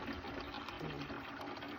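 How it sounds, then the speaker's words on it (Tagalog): Water streams steadily from a rainwater tank's faucet, a continuous faint splashing rush with no breaks and no talk. "Lakas ho ng tubig na galing dito sa tangke."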